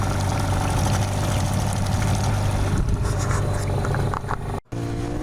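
A boat engine idles in neutral while drifting with the current on the Missouri River, a steady low droning rumble heard close and alone, with a momentary dropout near the end.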